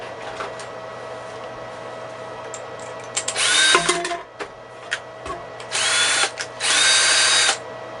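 A power drill bores holes for switches in the case of an electronic load build, with several loud whirring bursts of a few seconds each, broken by short pauses and quieter handling noise.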